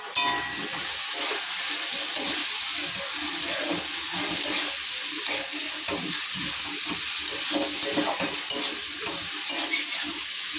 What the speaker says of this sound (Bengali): মশলাটা দিয়ে চিকেনের জন্য এগুলো কষিয়ে নিই।